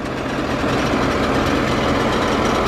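An Austrian-built Case IH Puma 175 CVX tractor fitted with front linkage and PTO idles close by, a steady, dense engine rumble with a faint knocking texture and no breaks.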